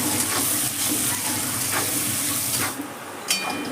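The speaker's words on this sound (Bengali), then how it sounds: "পেঁয়াজটাকে এবার ভেজে নেব তেলের মধ্যে" Three medium sliced onions for mutton curry sizzle in hot oil with a steady crackle and occasional stirring clinks, quieting briefly near the end.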